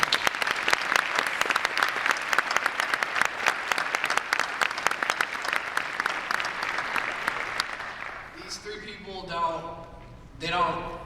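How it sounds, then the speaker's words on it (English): A high school graduation audience claps for the teachers in sustained, dense applause that fades after several seconds, followed by a voice speaking near the microphone. "please join me in giving a round of applause to my teachers"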